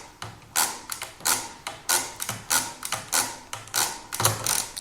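Crank turns on a mechanical calculator during division, a rapid series of loud, close ratcheting clunks in a steady rhythm, each turn a burst of gear and pawl clatter, with the carriage shifting between them.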